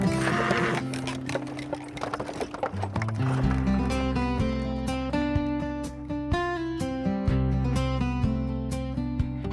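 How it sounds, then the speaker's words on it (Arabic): A horse's hooves clop in a steady rhythm over a loud, continuous musical backing, with no voices. "هذا حصان. الحصان حيوان سريع وقوي، يحب الجري والقفز"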